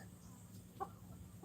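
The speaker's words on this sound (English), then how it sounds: "The chickens are getting irritable because there's no tarp there." Chickens on a small farm in Aklan cluck in one brief, faint burst midway through, set against a low steady background hum with no talk.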